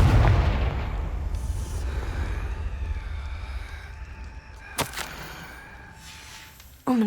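Confringo fire spell explosions in the Hogwarts Legacy video game: a loud burst at the start fades into a low rumble, followed by sharp blasts near the middle and again at the end.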